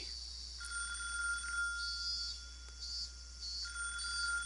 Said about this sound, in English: The phone rang for over 3 minutes.